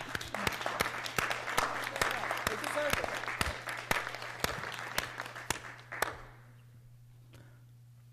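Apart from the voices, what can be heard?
applause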